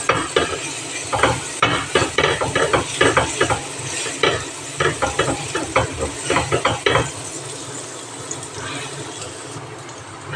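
Garlic sizzles in a hot pan for spaghetti sauce while a utensil stirs and scrapes in quick bursts, the steady frying hiss continuing after the stirring stops.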